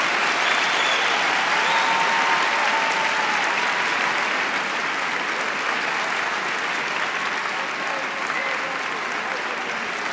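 Sustained, dense audience applause at a stand-up comedy show, loud and steady throughout with a full crowd clapping, easing only slightly toward the end.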